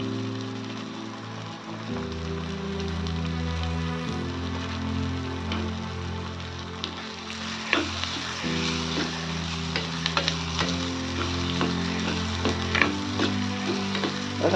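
Tomato with chopped stems frying in a pan for a traditional Maharashtrian vegetable dish, a steady close sizzle with scattered crackles and spatters, and stirring clinks growing busier toward the end.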